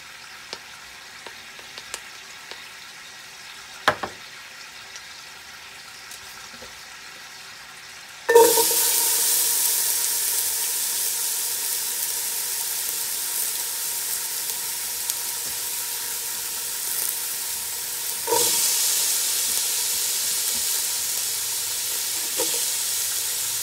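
Ginger, garlic and onions hit a hot frying pan with a sudden loud sizzle after quiet clinks, then a steady close hiss and crackle with stirring bumps.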